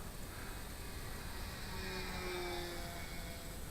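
A small GWS-style radio-controlled ME109 model plane with an 8x3.8 propeller flies at just over half throttle, its electric motor giving a continuous moderate buzzing whine that swells slightly as it passes.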